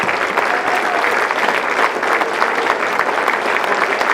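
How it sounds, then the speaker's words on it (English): A crowd at a town hall event gives a big, sustained round of applause, a dense and even wash of clapping that holds at the same loud level throughout with no talking. "Big round of applause for Mitch Sylvestre"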